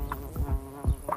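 Mud dauber wasp in the Dominican Republic, buzzing with a steady, close hum that swells and fades in a few short passes, alone with no voices.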